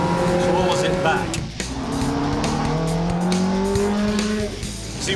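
A Ferrari accelerates hard on a road course, its engine note climbing in long rising sweeps with possible tire squeal, loud and close throughout, with someone talking over it.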